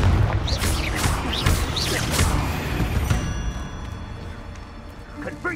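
Confringo fire spell blasts go off in the PS5 game Hogwarts Legacy, several deep booming thuds in quick succession, with in-game voices heard over the first few seconds before the rumble settles into a lower tail.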